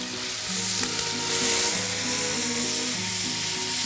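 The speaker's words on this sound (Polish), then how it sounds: "Tam wlany olej i teraz na tym najpierw rumieni się cebula." Chopped onion browns in oil poured into a hollowed plate set over an open fire, giving a steady, fairly loud sizzle and crackle that runs throughout without pause.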